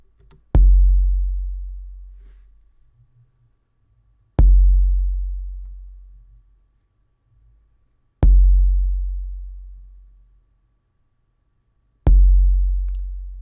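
Four long kick drum hits run through an SSL console emulation, evenly spaced about four seconds apart, each a sharp click followed by a deep, booming low tail that slowly decays into silence.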